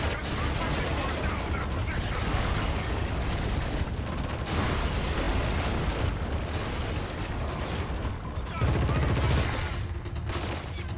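Dense, sustained gunfire from Killzone: Shadow Fall fills the scene, loud and continuous with mechanical clatter and blasts layered throughout, no pauses in the barrage.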